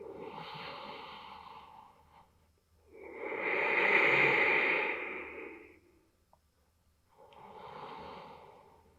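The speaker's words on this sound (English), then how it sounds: "nice deep breath." Slow, deep breaths during a yoga inversion with legs up the wall, close and audible: a long breathy inhale and exhale swelling in the middle, with softer breaths before and after.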